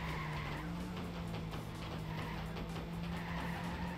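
A race car in a racing video game drifts through a turn, tires squealing loudly and continuously over a steady engine drone, close and sustained throughout.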